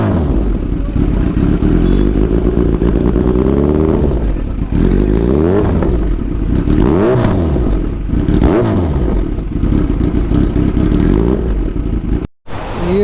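A Kawasaki Z900 motorcycle fitted with a silver SC Project exhaust, idling with a deep, loud burble and blipped repeatedly into rising revs, with a brief cut near the end.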